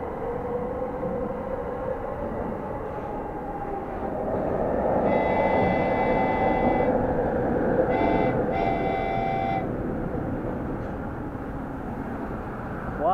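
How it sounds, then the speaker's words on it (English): An elevated Skytrain pulls into the station with a steady, swelling rumble, and high squealing tones ring out in two bursts midway before the sound eases off again. "Here we are, waiting for the Skytrain to come in."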